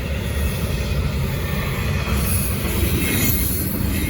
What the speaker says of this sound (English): How in the hell is this train going this slow?